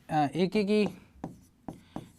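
A brief spoken word, then three short, separate scratchy strokes as a condition is written out during a Class 12 maths lesson on relations and functions, close and fairly quiet.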